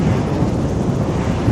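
Steady, rough wind buffeting a microphone, a constant low rumble with no let-up throughout.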